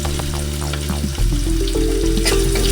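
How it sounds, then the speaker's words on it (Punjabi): Crushed garlic and finely chopped ginger roast in a hot pan, giving a steady, close sizzle with a low tonal hum underneath that thickens midway through. "ਦੋ ਚਾਰ ਮਿੰਟ ਆਪਾਂ ਇਹਨਾਂ ਨੂੰ ਚੰਗੀ ਤਰ੍ਹਾਂ ਭੁੰਨ ਲਵਾਂਗੇ"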